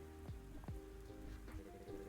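Rain falls in the farming video game Fields of Mistria, a quiet, steady patter with a few soft drops standing out and faint tones humming beneath.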